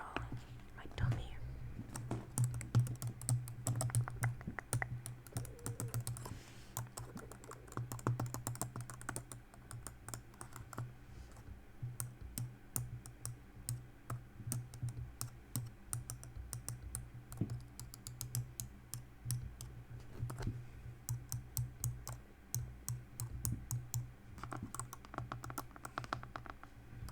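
Dense, close computer keyboard typing, soft and steady for a long stretch in an ASMR setting, with whispered talk over it.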